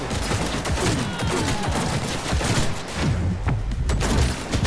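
Johnny Silverhand's pistol in Cyberpunk 2077 fires in rapid bursts of loud, dense gunshots, with game action and booms packed tightly throughout.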